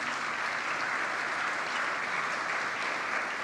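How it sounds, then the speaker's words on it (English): An audience at a conference opening ceremony applauds steadily, a dense even wash of many hands clapping at moderate volume, with no talking. "Let us clap for you."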